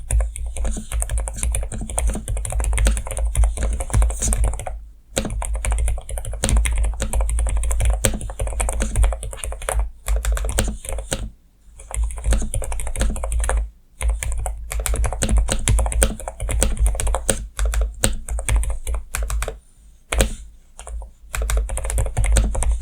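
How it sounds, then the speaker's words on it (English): Continuous typing on a NuPhy Node 100 quiet office keyboard, rapid soft keystrokes with an even rhythm, broken by brief pauses, close and clear with no voices. "let's get to the typing test. I have to preface, this is a very quiet keyboard"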